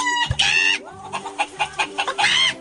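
Chickens cluck and squawk in short bursts in a barnyard, loud nearby calls alternating with softer clucks as the flock answers someone yelling.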